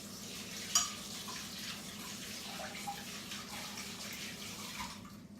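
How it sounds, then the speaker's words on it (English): Tap water runs steadily into a kitchen sink as hands are rinsed under it, a continuous soft splashing hiss with a small clink near the start, fairly quiet and without talking. "let me just move my bowl and rinse my hands off"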